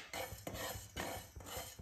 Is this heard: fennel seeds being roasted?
yes